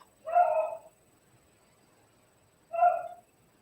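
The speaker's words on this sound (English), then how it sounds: "Do you hear my dog in the background?" A dog barks twice in the background of an indoor room, two short, moderately faint barks spaced a couple of seconds apart with quiet between them.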